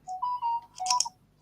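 Phone message notification, a brief close electronic chime of a few quick tonal notes ending in a brighter ping, heard in a quiet workshop with no talking.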